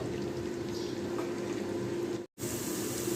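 Onions fry gently in a pan of oil for a beef rezala, producing a soft, even, low-level sizzle with a faint steady hum beneath it. There is a brief dropout near the end and no voices.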